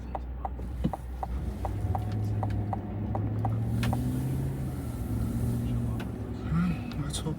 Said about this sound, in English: Oh, they let the bus come down.